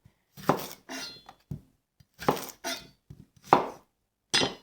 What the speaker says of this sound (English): now we're gonna work on chopping up our vegetables.